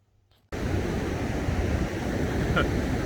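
After a brief quiet moment, loud roaring surf and gusting wind buffeting the microphone burst in and continue steadily, close and unbroken.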